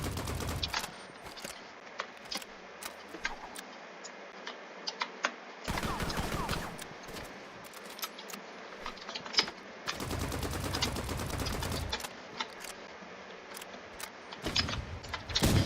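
Assault rifle fire in the Rivals video game comes as rapid automatic bursts separated by quieter gaps, sharp and loud, with repeated sections of sustained shooting.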